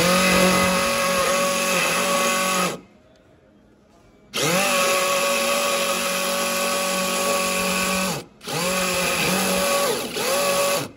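DeWalt driver driving a screw, a loud whirring motor that runs for several seconds, stops briefly, then runs again in two longer bursts with a short pause between them, close up.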